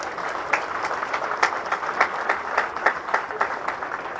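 Parents and siblings applaud at an officers' award ceremony, a steady, fairly close wash of many hands clapping that keeps going the whole time.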